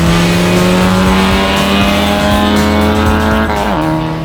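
Car accelerating on a road drive through Bulgaria near Sofia, engine pitch holding steady then dropping briefly at a gear change, loud and close, a continuous drone with no talking.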